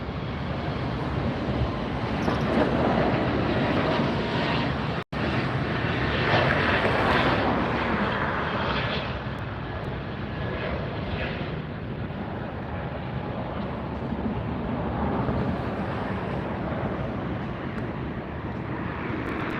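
A Frontier airliner departs from LAX with a sustained, loud jet roar, strongest early on and then easing slightly while staying steady, with one brief sharp dropout partway through.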